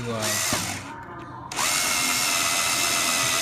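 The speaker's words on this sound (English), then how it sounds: "continue to drill through it now" Power drill boring through a stuck metal part on a Monarch restoration, loud and continuous with a brief dip in speed near one second before spinning back up steadily.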